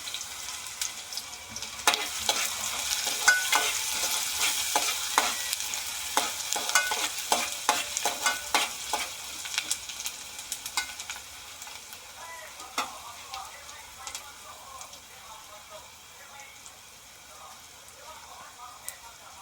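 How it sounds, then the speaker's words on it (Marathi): Chopped onions fry in hot oil for Malvani chicken, giving a soft, steady sizzle with repeated sharp scrapes and clatters of a spoon stirring the pan, busier at first and then easing off. "कांदा आहे ना पूर्ण लालसर होईपर्यंत तेलामध्ये फ्राय करून घ्यायचा."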